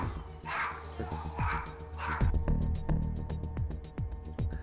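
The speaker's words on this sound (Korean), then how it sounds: "보리는 제작진을 향해 끊임없이 짖고 난리였죠" Repeated sharp barks from Bori, a fearful, poorly socialised small dog, aimed at strangers indoors, with yips in a fairly steady run over a background murmur of voices.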